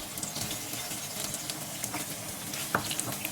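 Hot oil sizzles steadily in a pan while a Balti sauce is being made, a soft continuous hiss with a few faint pops and crackles, heard close and alone.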